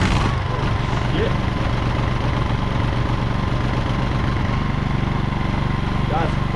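A Honda EX1000 generator engine runs at a steady idle, giving a close, continuous, even mechanical drone with no break.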